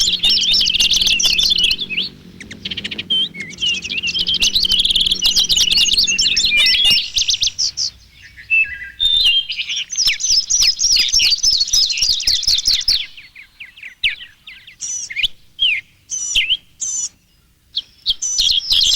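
Songbirds chirping loudly and close, dense overlapping tweets and trills that continue throughout with brief pauses and bursts of rapid calls.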